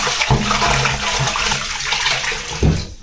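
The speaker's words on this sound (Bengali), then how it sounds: "সেটাকে একবার ধুয়ে নিতে হবে" Flattened rice (poha) is rinsed under water, with a steady rushing, splashing flow close by and a couple of louder sloshes before it cuts off at the end, and no voices.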